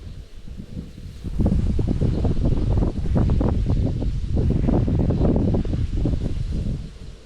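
Wind gusts across open water by a reed-lined lake, a steady rushing roar with rustling that swells and stays strong throughout, no voices.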